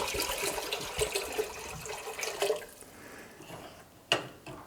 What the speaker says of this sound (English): And the remainder we can go ahead and pour in a pot.